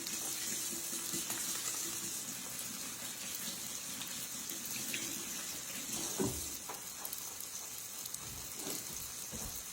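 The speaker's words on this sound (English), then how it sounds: "Give my hands a little wash." Running tap water gushes steadily as hands are washed in a kitchen while cooking, a continuous hissing flow with a few faint clunks near the end.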